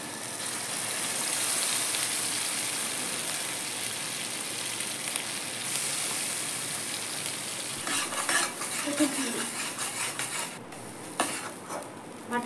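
Prawns and pointed gourd frying in a kadai with a little water, a broad steady sizzle that turns choppier near the end as stirring strokes and clinks break through.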